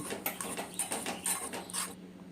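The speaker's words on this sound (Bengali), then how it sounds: "কম আঁচে নাড়তে নাড়তে এইভাবে চিনিটা কিন্তু গলে যাচ্ছে।" Sugar melting with butter in a pan over low heat, stirred steadily into caramel: a run of soft, rhythmic scraping strokes against the pan at a moderate level, with no voices.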